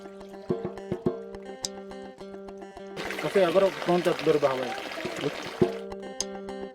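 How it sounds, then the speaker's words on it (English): Coffee beans being washed for a third time: water pours and trickles for a few seconds, loudest mid-clip, with faint tonal hum and occasional knocks around it. "They wash the coffee for the third time."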